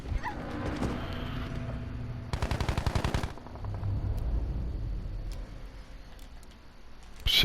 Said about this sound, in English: Oh, the Lewis gun. One of my favourite guns in Battlefield